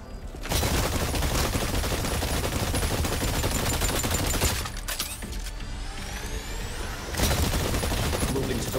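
Sustained, dense automatic gunfire at targets in the Exoprimal video game, loud and continuous with brief dips and a fresh burst near the end, set against a game backdrop.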